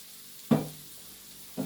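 Dry garlic goes into a hot pan under a faint steady sizzle, with two short, louder scraping bursts of stirring about a second apart.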